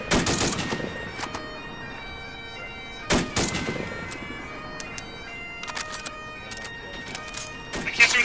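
Gunfire in the Arma video game comes as sharp, scattered shots and short bursts, some loud and close, others faint and distant, with voices talking between them.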